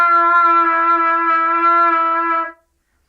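A trumpet sustains one G for about two and a half seconds, played low on the pitch so the tone wavers slightly, loud and close before cutting off.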